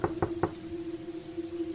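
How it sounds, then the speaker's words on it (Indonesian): Three quick knocks on a front door at night, close and evenly spaced, followed by a quiet steady hum. "terdengar ada ketukan di pintu depan rumah"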